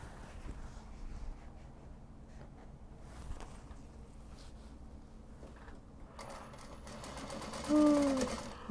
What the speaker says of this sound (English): we'll sew the foam pockets together actually